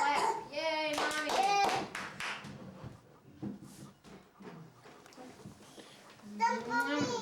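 Family members clapping after the birthday candles are blown out at a home party, a quick burst of close hand claps mixed with children's and adults' voices talking and cheering.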